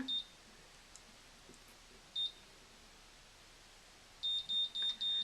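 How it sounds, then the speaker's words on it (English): Faint high electronic beeps from a Conair Infiniti Pro Curl Secret hair curler sound alone against a quiet hiss: a couple of isolated chirps, then a quick run of four evenly spaced beeps near the end. "So then when those fast beeps go, then you let it go."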